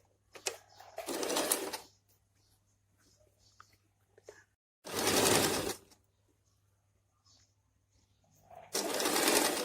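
A sewing machine stitches pants in three bursts of rapid, close mechanical whirring, separated by quiet pauses with faint handling noises.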